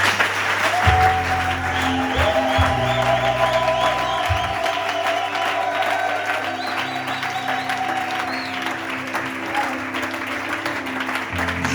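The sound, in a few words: congregation applauding and cheering in church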